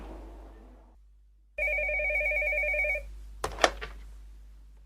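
A telephone rings once in a shop, a loud, clear electronic trill lasting about a second and a half against quiet room hum, followed by a short clatter as the receiver is picked up.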